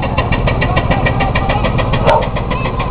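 A canal boat engine running loud and close at a canal festival tug of war, a steady rhythmic diesel chugging that holds at a high rev throughout.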